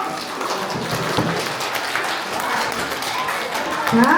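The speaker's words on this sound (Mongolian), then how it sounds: "бүгдээрээ аав ээжтэй эмээ өвдөө гэр бүлийнхээ бас баярснаа илэрхийлээд алга ташаа бүгдээрээ" Parents, grandparents and children applauding at a primary school alphabet celebration, a steady wash of crowd clapping that holds throughout the room, with voices faintly mixed in.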